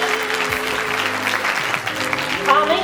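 An audience claps steadily for ninth-grade students after their school performance, a dense sustained patter of hands with faint voices mixed in.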